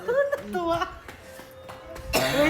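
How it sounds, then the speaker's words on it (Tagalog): An 89-year-old grandmother coughs, a harsh burst near the end following her talking, her voice and a faint steady tone running under the clip. "Ganyan na ubo ko ako"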